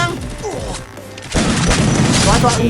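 Gunfire in the Free Fire video game: someone talks excitedly at first, then a loud, dense volley of rapid shots and blasts erupts and continues to the end.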